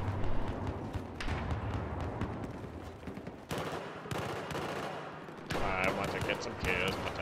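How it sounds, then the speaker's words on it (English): Dense gunfire in a Battlefield 4 Conquest match, including an AK rifle, with continuous rapid shots and heavy thuds of explosions. The shooting is loud and unbroken, mixed with chaotic battlefield noise and voices talking over it. "I'm pulling out an AK with a grenade launcher"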